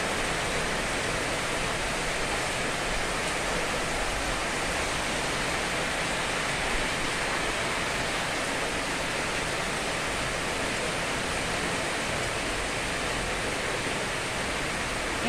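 Heavy rain in Theni, Tamil Nadu, pours down in a dense, unbroken hiss, loud and steady throughout with no voices.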